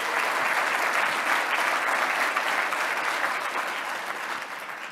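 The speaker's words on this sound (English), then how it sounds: "So please give them a round of applause" Forum audience breaks into a round of applause, a dense even patter of clapping that holds steady and then gently tapers toward the end.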